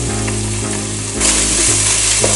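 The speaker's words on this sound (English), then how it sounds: "Now mix the thyme through." Shepherd's pie filling frying in a pan with thyme being stirred through, a steady close sizzle with a low hum beneath and scraping movement, growing brighter and louder partway through.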